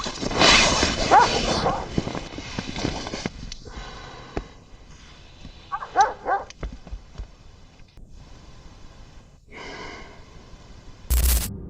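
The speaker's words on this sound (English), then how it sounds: "After a few minutes, the barking stops and Kusham does not return" A dog gives a few short barks and yips, with whimpering sounds and quiet gaps between them. Faint murmurs come in between.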